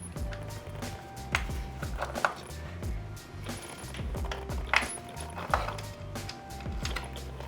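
A screwdriver works on a Pioneer DDJ Rev 7 controller to take out a platter sensor, giving close, small ratcheting clicks, scrapes and sharp metallic taps in an uneven rhythm, with no speech.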